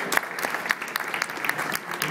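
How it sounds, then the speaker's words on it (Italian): An audience applauds Andrea Risa of MainADV at a startup innovation awards event, a short, moderately quiet patter of clapping that holds steady throughout. "un applauso per Andrea."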